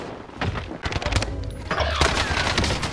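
Machine gun fire in a video game rattles in loud rapid bursts mixed with thuds and impacts, with excited players' voices around it.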